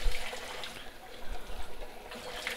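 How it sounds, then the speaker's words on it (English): Freshly boiled eggs are rinsed under a cold running tap. The water trickles and splashes unevenly in soft bursts at moderate volume, with no talking. "And now I'm just putting it under cold water."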